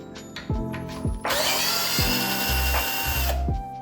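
A power tool unscrews the rear fork bolt on a budget moped frame built from Temu parts. Several short revving bursts lead into a loud, sustained whirring drive close by, then the tool winds down.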